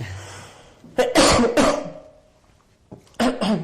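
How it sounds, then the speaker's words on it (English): Two bursts of harsh coughing, a pair of quick coughs near the start and another rough cough toward the end, close and loud with no talking. "I'm going to cough."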